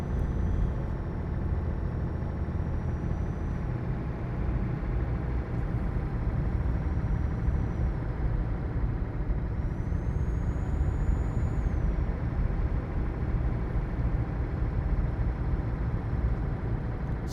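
A truck drives in a trucking simulator game, a steady, droning diesel engine rumble that holds evenly throughout, with faint higher whines drifting above and no talk.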